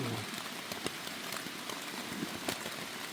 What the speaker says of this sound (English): we got everything set up right before it started raining